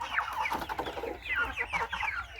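Chickens and large, heavy roosters cluck in a farmyard flock, with a string of close, soft clucks and brief calls that come in uneven bursts.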